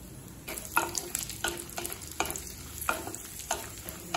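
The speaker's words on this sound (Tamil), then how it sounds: "முந்திரியும் பாதாமும் நல்லா கலர் மாற வரைக்கும் வறுத்துக்கலாம்." Cashews and almonds roasting in ghee in a pan, a steady close sizzle broken by repeated stirring scrapes at a loose, regular rhythm, with no voices.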